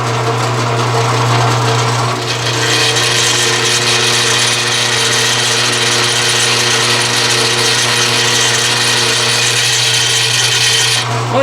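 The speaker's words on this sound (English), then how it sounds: "I'm going to change the speed on the drill press" A drill press runs steadily with a constant motor hum and a continuous whir as it bores, staying loud and even for several seconds, during work on a 4x4 shifter repair on an old truck.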